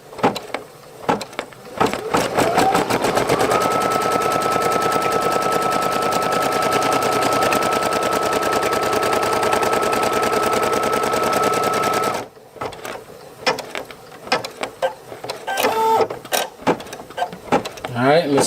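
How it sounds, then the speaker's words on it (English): A machine embroidery unit stitches a placement line on fabric, a loud steady rapid stitching hum running for about twelve seconds before stopping, followed by quieter intermittent clicks and handling sounds. "Giving us our placement stitch, letting me know exactly where I need to place my fabric, right?"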